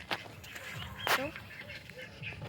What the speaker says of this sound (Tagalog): At mga itik.